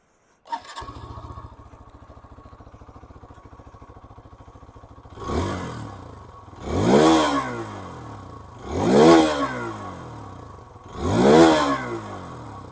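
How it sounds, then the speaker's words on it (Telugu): A 2024 Hero Xtreme 160R 4V, a 160cc motorcycle, cranks and starts, then idles steadily before four rising-and-falling revs of its exhaust note, close and loud with no speech. "దానికన్నా ముందు ఈ బైక్ యొక్క ఎగ్జాస్ట్ నోట్ అనేది వినిపిస్తాను."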